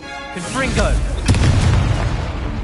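A Confringo explosive spell blast in the video game Hogwarts Legacy, a loud booming burst with a deep rumbling tail that lingers for over a second after a brief whooshing spell cast.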